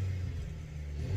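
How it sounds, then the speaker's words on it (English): A 2022 Ford Maverick pickup engine revving, heard from inside the cabin: a low, steady, fairly quiet rumble with no talk over it. "I'm going to give you a few revs from inside the car."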